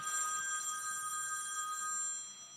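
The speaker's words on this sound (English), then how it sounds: "My phone's ringing." A telephone rings with a steady electronic tone that holds for a couple of seconds and then fades. It is fairly soft and sounds alone, with no talk over it.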